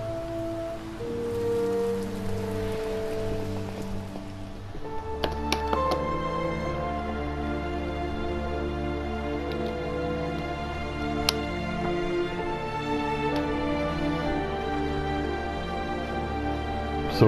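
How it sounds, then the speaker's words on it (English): Steady rain falls throughout a scene in the video game Heavy Rain, a continuous soft hiss under sustained tonal sounds, with no one talking. "Because it's raining."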